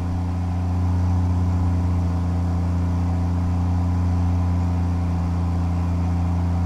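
Heavy truck engine from American Truck Simulator, a Kenworth W900 hauling cattle, droning steadily and loudly at cruise with a faint rhythmic surge in its low hum, no talking.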